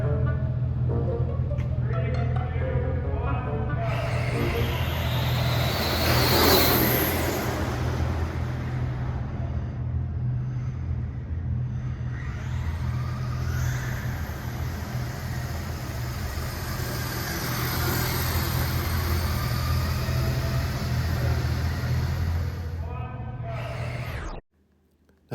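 A 1/10th scale RC car drives through a parking garage, a buzzing electric whine building and fading over a long run, with a steady low drone underneath, rolling echo, and a sharp cutoff near the end.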